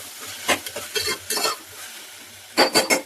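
Tomatoes sautéing in a pan while being stirred, with a few short bursts of scraping and sizzling separated by quieter gaps, close and fairly loud.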